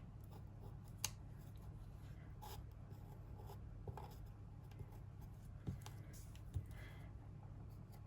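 A pencil traces lines on paper while preparing a watercolour piece, giving a faint, steady scratchy rasp with a few small taps, quiet and close.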